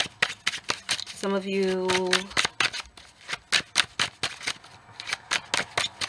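Tarot cards riffled and shuffled in quick rhythmic bursts for a card reading, a close crisp flutter running under steady talking.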